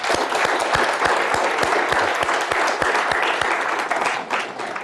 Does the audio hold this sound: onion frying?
no